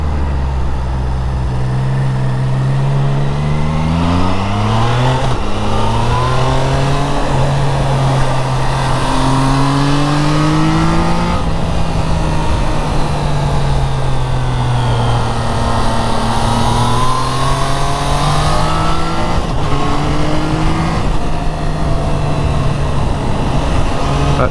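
A Triumph Trident 660 motorcycle engine pulls hard in sixth gear, a loud continuous drone that climbs in pitch, eases briefly, then rises again under rushing wind noise, with no speech.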